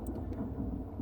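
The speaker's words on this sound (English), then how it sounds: "You can hear the thunder rolling in the background." Thunder rumbles low and steady during a storm, a continuous deep roll with no clear cracks, heard faintly in the distance with no voices.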